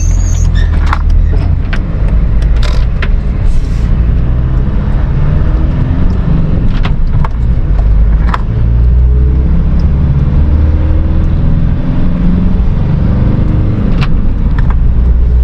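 An Izh motorcycle pulls away from a standstill on a road beside a Mercedes car, a loud, steady engine roar with occasional sharp squeals and clicks, no talk.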